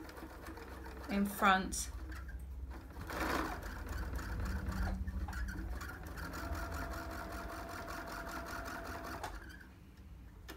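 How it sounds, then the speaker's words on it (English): A sewing machine running steadily for several seconds while stitching shirring lines with elastic thread, a continuous fast whirring hum. A person speaks briefly at the start. "So I'm going to sew this next one"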